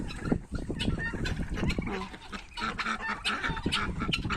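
A flock of turkeys gobbles continuously and noisily, with chickens clucking among them, a dense, busy poultry chorus up close as the birds are let out.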